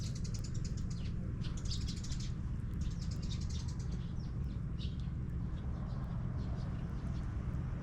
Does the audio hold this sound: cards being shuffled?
no